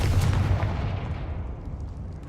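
A Confringo blasting spell from the Hogwarts Legacy video game goes off in a single loud booming explosion that rolls away into a low rumbling decay, with no talk over it.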